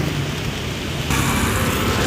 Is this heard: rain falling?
yes